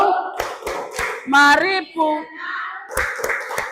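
A class claps hands in short rhythmic bursts, with children's voices chanting and singing an Indonesian going-home clapping song between the claps.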